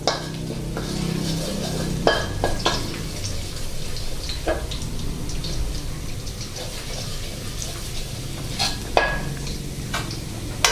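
Garlic stir-fries in a pan over low heat, a steady soft sizzle broken by scraping stirs and occasional clinks of the utensil against the pan.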